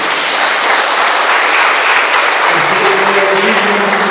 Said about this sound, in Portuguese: Gostaria que você desse também mais uma vez uma salva de palmas para o Senhor.